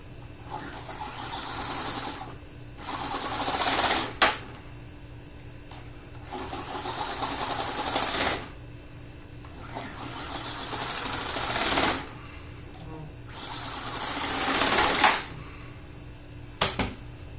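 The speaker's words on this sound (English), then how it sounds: "so we're going to try the sawzall" A Sawzall reciprocating saw buzzes in several long bursts against an oil filter from a high-mileage D-series engine, steady and loud, with short clunks and brief pauses between the runs.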